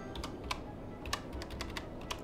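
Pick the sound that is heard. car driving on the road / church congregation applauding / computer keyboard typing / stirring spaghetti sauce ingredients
computer keyboard typing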